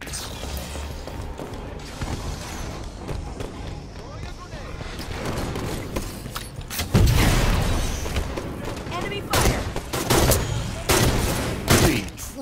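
Sniper rifle shots in the video game Halo 5 ring out amid dense gameplay noise, with several loud sharp cracks and booming impacts in the second half over a constant mix of effects.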